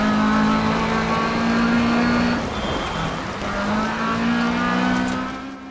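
Rally car engine from the video game DiRT Rally in a rallycross race, a steady loud drone of revving and gear changes with a brief dip in the middle before the engine note climbs again.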